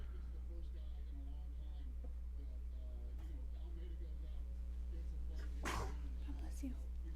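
A single sharp sneeze bursts out near the end over a constant low electrical hum during a live talk stream about a mixed martial arts event, with faint murmuring around it.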